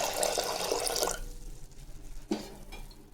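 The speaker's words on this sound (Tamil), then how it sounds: "கொஞ்சம் தண்ணி ஊற்றணும்" Water pours briefly into a metal pressure cooker with a splashing hiss, then stops, followed by a few quiet clinks and drips.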